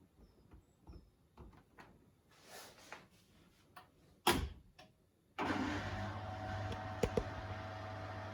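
A Beko WTK104121A washing machine starts a rinse cycle: after some faint knocks and clicks, a steady loud motor hum with water rush kicks in abruptly and continues, with a few sharp clicks on top.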